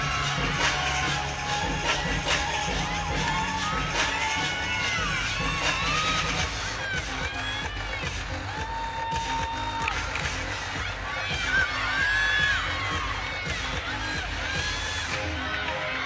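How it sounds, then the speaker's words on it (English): A college team cheers and whoops from the sidelines of an NCAA women's gymnastics meet, Missouri versus Georgia, urging on a gymnast's second tumbling pass; a broad crowd roar holds steady throughout with sharp shouts breaking through. "Her team cheering her on for a second pass"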